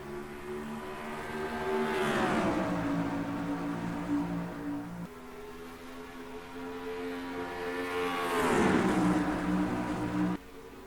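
Race trucks in the NASCAR Racing 2003 game at Chicagoland Speedway drone at full throttle in a dense pack, engine pitch sweeping down twice as the field roars past, a steady loud whine throughout.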